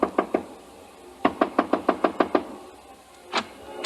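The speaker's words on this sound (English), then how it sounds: "I stopped in front of room 300 and knocked." Knuckles rap on a hotel room door in sharp, close knocks: three quick raps, a pause, then a rapid run of about eight, and one final knock after a short gap.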